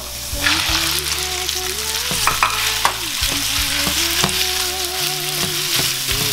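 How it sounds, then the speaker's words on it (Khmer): Meat stir-frying with red shallots in a pan for a bamboo shoot dish, a loud, continuous sizzle up close with repeated scrapes and knocks of the spatula against the pan. "យើងឆាសាច់ទៅឆ្អិន"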